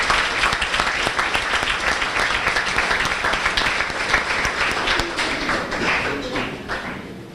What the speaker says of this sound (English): So how about a nice round of applause for our sports boosters.